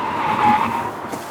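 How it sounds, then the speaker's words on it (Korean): A Honda CR-V Hybrid braking hard, giving a steady, loud tire squeal or whine that holds for just over a second, close up with no talk over it. "브레이크 밟아볼게요"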